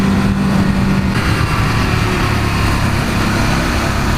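An EBR 1190RX motorcycle engine runs steadily and loudly while being ridden, a continuous close rumble with wind noise over it and no talking.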